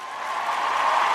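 Studio applause sound effect, a steady wash of many hands clapping that swells slightly louder over about a second, with no voices over it.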